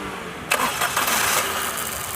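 A Suzuki car engine with a cylinder misfire cranks and catches abruptly, then settles into a steady close-up idle, with no voices.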